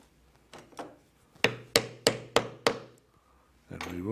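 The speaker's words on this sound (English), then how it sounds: "And now we will do the third rivet." A hammer drives a metal rivet into a steampunk-style full corset, with a sharp strike, a pause, then five evenly spaced hard taps ringing briefly, close and loud, followed by a short resonant tone.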